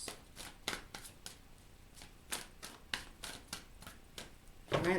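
Tarot deck being shuffled by hand, a series of quick crisp riffling and slapping bursts at an irregular rhythm, close and fairly quiet, ending with a louder thump; no speech.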